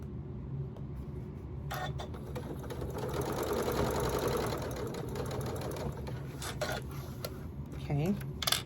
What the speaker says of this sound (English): I'm going to sew all the way around our whole bag and stop here